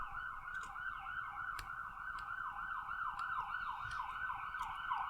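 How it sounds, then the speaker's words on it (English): An ambulance siren passes outside a hospital, its wailing tone sweeping up and down steadily and clearly over a low background hum, with no talk over it. "There's the customary ambulance going by St. Paul's."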